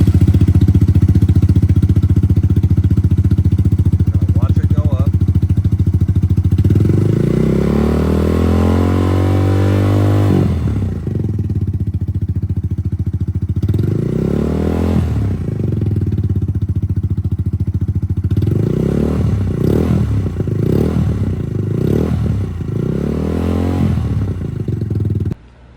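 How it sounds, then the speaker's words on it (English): A motorcycle engine cranks with a clatter, starts, and idles loudly during a charging system test, with several rising revs before it cuts off at the end. "then we'll start our motorcycle"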